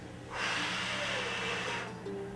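Person's audible breath during a back exercise for scoliosis, a single long airy inhale or exhale lasting about a second and a half, close to the mic over a faint background hum.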